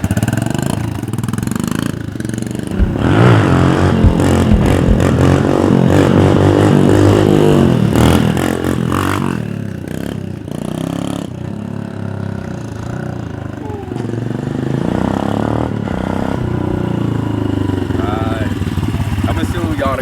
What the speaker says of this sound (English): I'm gonna show you guys a couple wheelies, you know, with the back brake real quick